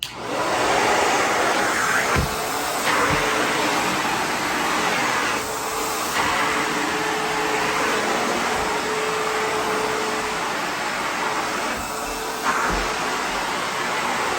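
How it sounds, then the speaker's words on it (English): A ProTeam MegaVac vacuum cleaner runs continuously with a loud, steady motor whine and airflow roar, close and unbroken for the whole stretch, with faint bumps and knocks of the head. "So I will stop chatting and we'll get to some vacuuming."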